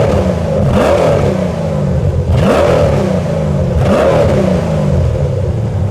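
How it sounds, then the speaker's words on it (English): A Saleen S7 supercar engine is revved hard three times in quick succession, each loud, close burst rising and falling back to a throaty idle between blips, with no talking. "let's take a listen to a couple of revs from the Saleen S7"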